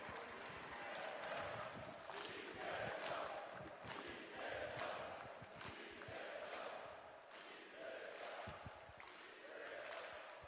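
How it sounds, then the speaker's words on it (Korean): A large rally crowd for presidential candidate Lee Jae-myung claps and chants in rhythmic waves, voices surging together in repeated pulses over sustained applause, moderately distant. "다시 한번 뜨거운 박수와 함께 이재명을 연호해 주시길 부탁드리겠습니다."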